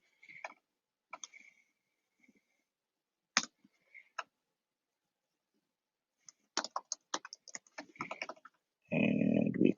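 Someone types a document title on a computer keyboard in short, quiet bursts of clicks separated by pauses, with a denser run of keystrokes near the end followed by a louder final burst of noise.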